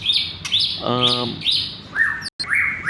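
White-rumped shama (murai) song from an MP3 training recording, a run of clear whistled and chirping phrases with a rapid rattling trill in the middle, close and moderately loud.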